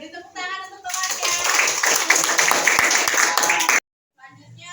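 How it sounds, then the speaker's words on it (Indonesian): A classroom of students breaks into loud, dense applause for a classmate, lasting about three seconds before stopping abruptly, with a teacher's voice speaking just before and after. "Beri tepuk tangan untuk temannya."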